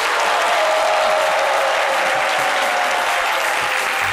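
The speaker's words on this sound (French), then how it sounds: "S'il vous plaît, respect pour le doyen Cassie, avec des applaudissements." A studio audience on a French television show claps loudly and steadily throughout, a dense, close, unbroken wash of applause.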